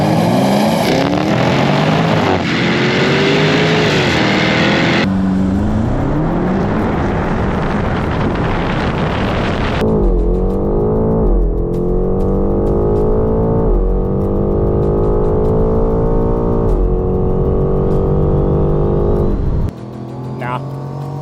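Powerful sports cars, a Jaguar F-Type, BMW M8 Competition, Corvette C8 and Mercedes-AMG GT S, launch hard in a drag race, engines roaring and rising through gears in loud sweeping pulls, with voices talking over the noise.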